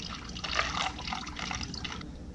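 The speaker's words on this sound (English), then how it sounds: "I can actually flush a little bit faster this way because there's no filter screen as this enters the water heater." Water flushing through a tankless water heater during cleaning, heard as a steady broadband rush and gurgle of liquid with small fluctuations throughout, fairly close, with no voices.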